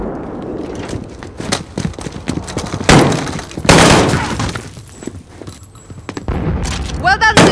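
Gunfire in the Modern Warfare video game, irregular loud rifle shots and bursts cracking out over several seconds, some close and sharp, with a voice speaking among the shots.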